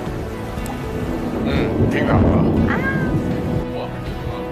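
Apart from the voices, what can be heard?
thunderstorm and rain at sea on a fishing boat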